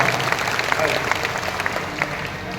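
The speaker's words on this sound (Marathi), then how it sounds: "एकदा टाळ्या वाजवा टाळ्या" An audience at a kirtan devotional gathering claps in a steady round of applause, with voices mixed in over a continuous crowd murmur.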